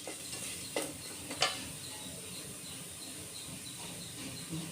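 Chilli powder and coriander powder being stirred into a pan for a Tamil green gram rice dish: a soft, faint sizzle with a few light metallic scrapes and clinks of the spoon.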